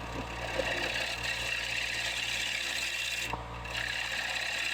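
A wood lathe spinning at about 1,000 RPM hums steadily while a gouge scrapes and rubs across a cutting board blank being turned into a bowl, a continuous rough, rasping cut with no speech.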